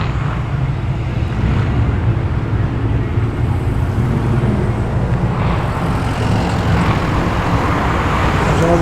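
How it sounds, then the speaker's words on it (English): Holden Commodore SS V8 in white, a steady low engine burble at a muscle car gathering, continuous and fairly loud against background traffic and crowd noise. "There's another Commodore. SS, in the white. Nice V8 Burble."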